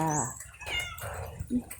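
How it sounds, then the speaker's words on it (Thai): A short meow rings out close by, with other soft vocal sounds and outdoor noise around it, on a rainy morning by a roadside. "มีแมวด้วยนะ"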